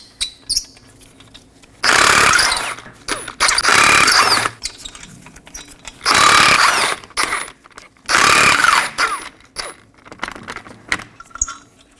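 A ratchet working the 19mm lug nuts on a Ford Transit Connect front wheel: loud bursts of rapid clicking and metallic rattling in several separate runs, with brief clanks between them.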